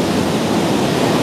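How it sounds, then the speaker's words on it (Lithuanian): Niagara Falls thundering nearby, a steady, dense roar of falling water with no breaks, loud and broadband, with no voices over it. "va tas didelis krioklys yra iš vienos pusės"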